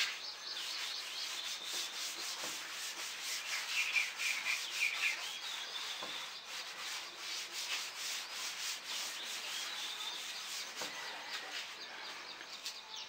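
A duster rubs steadily across a classroom blackboard, a continuous scratchy swishing with rhythmic back-and-forth strokes lasting throughout, close and fairly loud with no talking.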